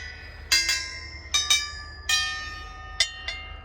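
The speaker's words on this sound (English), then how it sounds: "So some wind chimes you can hit with a little, maybe at one point, maybe there was a mallet at the end of that." Wind chimes at a sculpture park chapel struck by hand about seven times in quick pairs and singles, each a bright, ringing metallic tone that decays slowly, close by with no talk.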